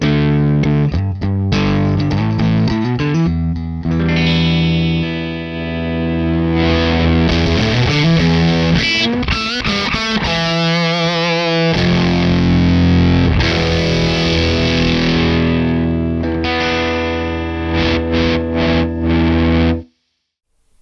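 Electric guitar played through a Jacques Mercer Box fuzz and distortion pedal, loud thick saturated chords and riffs with sustained fuzzy tone running continuously for about twenty seconds before cutting off.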